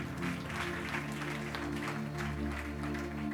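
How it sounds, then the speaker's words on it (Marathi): A congregation claps during a Christian sermon, dense applause spread evenly over steady, sustained music. "जरा जोरदार टाळ्या प्रभूसाठी"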